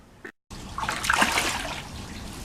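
Pond fish splash at the surface during a morning feeding, a brief dropout followed by a steady wet churning and sloshing of water, close and moderately loud.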